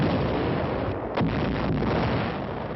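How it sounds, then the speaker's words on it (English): German 88mm artillery guns fire at a beachhead during the landings for the liberation of Rome, a dense, loud roar of blasts and rumbling booms from archival war footage, sustained and heavy with no voices. "88mm guns slowed up our landings and imperiled the entire beachhead operation."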